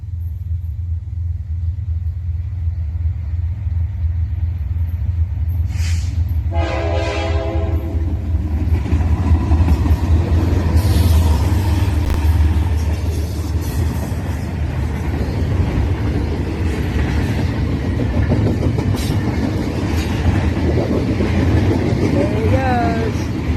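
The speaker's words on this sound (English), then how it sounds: "Next up, we have NS-23K. This unit had a BNSF war bonnet leading." A Norfolk Southern freight train, NS-23K, led by a BNSF warbonnet locomotive, rumbles steadily past at close range with a brief horn blast partway through and a continuous low rail roar throughout.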